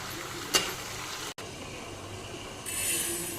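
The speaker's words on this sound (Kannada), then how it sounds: "ಒಂದು 2-3 ಗಡ್ಡೆ ಬೆಳ್ಳುಳ್ಳಿ ಹಾಕ್ತಿದ್ದಾರೆ. ಹಾಕ್ಬಿಟ್ಟು ಚೆನ್ನಾಗಿ ಕಲಿಸ್ತಾ ಇದ್ದಾರೆ ನೋಡ್ರಿ." Garlic being stirred and fried in a pan for tomato chutney, a steady close sizzle with a brief scrape of stirring and a brighter hiss rising toward the end, no talk.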